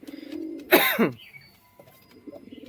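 A pair of fancy pigeons, a male and a female, coo in low throaty bursts close by, with a brief louder flutter-like rasp in the middle before the soft cooing resumes.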